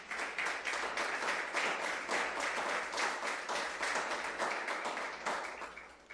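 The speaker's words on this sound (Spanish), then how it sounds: "Denle un aplauso al Señor." Church congregation clapping together in praise, a steady, fast rhythm of many hands that keeps going at an even loudness, with no voices standing out.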